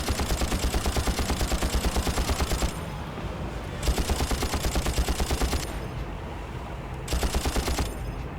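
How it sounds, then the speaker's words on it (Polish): Sustained bursts of rapid automatic rifle fire in the video game Far Cry, loud and close, in three long volleys separated by brief pauses, with game-like echo filling the gaps. "Teraz znowu ktoś strzela, kogo nie widzę."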